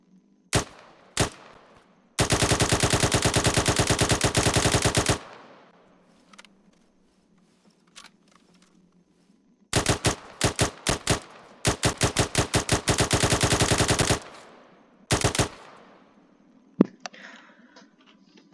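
SA-80 rifle in Arma 3 fires full-auto bursts at about 650 rounds per minute, with a few single shots, one long burst and several shorter rapid strings, sharp and loud with brief silent gaps.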